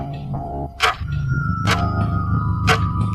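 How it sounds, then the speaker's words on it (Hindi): A clock ticks with sharp, evenly spaced clicks about once a second, over a low steady hum in a quiet room. "पूरे घर के सन्नाटे को सिर्फ एक ही चीज़ तोड़ रही थी, और वो थी"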